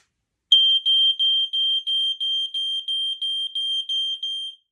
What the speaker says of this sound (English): Now let's test my smoke alarms.